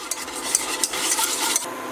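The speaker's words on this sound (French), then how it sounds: "n'hésite pas à mélanger la préparation" Creamy lemon semolina cake mixture stirred in a pot over low heat, a spoon scraping repeatedly with soft clinks against the sides and a gentle bubbling sizzle beneath.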